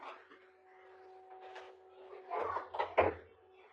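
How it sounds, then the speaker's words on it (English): An indoor door is pushed shut with a muffled thump and rattle near the end, preceded by a steady hum and faint household noise, fairly quiet and without anyone speaking over it. "I might have to close my door"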